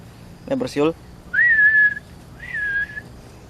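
Two sustained human whistles, each about half a second to a second, rising then holding steady, following a brief burst of speech at the start.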